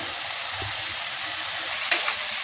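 Bitter gourd stir-fry sizzles in a pan, a steady close hiss with faint scrapes as it is stirred.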